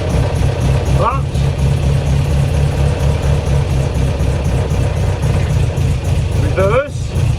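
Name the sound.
classic car engine running after 48 years off the road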